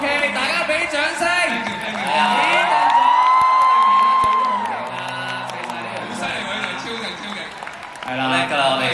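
Audience at a fan meeting during a jigsaw-puzzle race game claps and cheers with scattered whoops, a dense crowd sound that swells mid-clip while a host talks over it.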